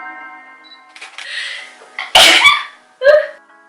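A person sneezes in front of a camera, with a short breathy build-up followed by a sharp loud burst and a smaller second burst just after, close and indoors.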